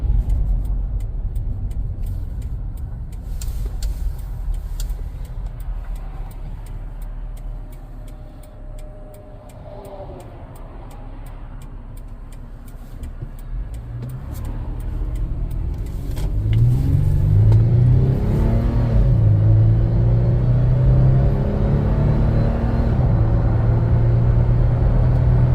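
A Toyota 4Runner Trail Edition SUV rolls along with a steady engine and road rumble, slowing under braking at first, then the motor grows louder and rises in pitch as it accelerates.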